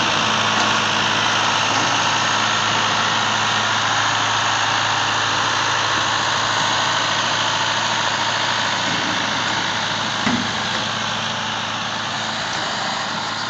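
A tractor pulling a cattle trailer through mud runs with a steady, loud engine drone and constant low vibration throughout, with only a faint knock or two partway through and no talking.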